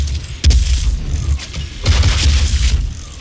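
Booming explosions in the DOOM video game, two heavy low thuds with crackling debris, each swelling and lingering loud and close.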